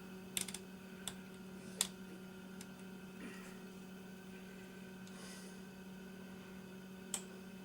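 A Binatone Route 66 CB radio with a receive fault gives sparse dry clicks as it steps through channels, faint and irregular over a steady low electrical hum.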